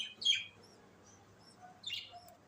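Two short, faint bird chirps at the Lalukhet Sunday bird market, one early and one near the end, over quiet background.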